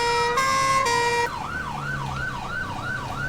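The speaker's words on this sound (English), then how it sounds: "Dual siren." A two-tone emergency siren in GTA V opens with a steady alternating high-low wail for about a second, then switches to a rising-falling yelp that repeats rhythmically, loud and close with road rumble beneath.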